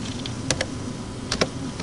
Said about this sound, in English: you could just type in your calculator